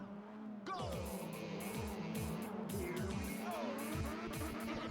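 A race car in Ridge Racer Type 4 on the Wonder Hill course, with a steady engine drone through repeated gear shifts and bright tire squeals, loud and close throughout.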